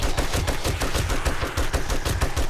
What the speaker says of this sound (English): Get the M60 going here.